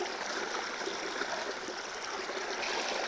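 Creek water runs steadily through a gold sluice, a continuous broadband rushing and trickling wash that holds constant and close throughout, with no voices over it.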